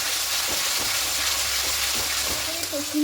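Rohu fish kalia masala being stirred and fried in a pan, a soft continuous sizzle broken by scraping stir strokes, with faint background sounds near the end.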